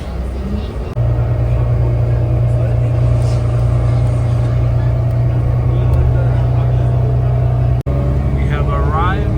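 Steady ride in a vehicle heading to the Ford Rouge factory line, a constant low engine and road drone filling the whole stretch, close and loud, with a brief break near the end.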